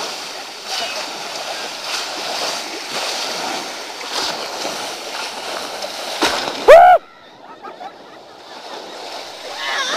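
Lake water crashes over passengers on a boat's high side in a sudden loud splashing burst, following steady wind and water rush beneath chatter, then a quieter hiss of draining spray.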